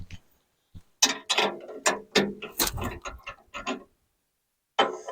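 A ratchet wrench loosening the nuts on a snowblower ski, heard as short bursts of close, sharp clicking strokes separated by brief pauses, with one final burst after a longer gap.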